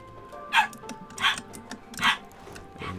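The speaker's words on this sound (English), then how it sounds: "no idea why my dog is freaking out" A pet dog gives four short, sharp yips or barks at roughly even intervals, moderately close but not loud, over a quiet indoor background.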